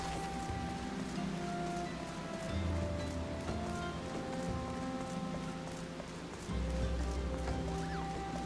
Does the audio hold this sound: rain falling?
yes